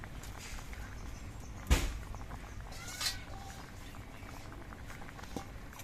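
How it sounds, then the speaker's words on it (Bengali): Shukto curry with coconut milk bubbling in a pot, a constant gentle bubbling and pattering simmer, close and fairly quiet, with a single brief knock partway through and no speech. "নারকেল বাটা দুধ দিয়ে তিন চার মিনিটের মতো আমি শুক্তো তরকারিটা ফুটিয়ে নিয়েছি"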